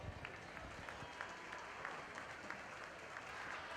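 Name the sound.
audience applause at a goat show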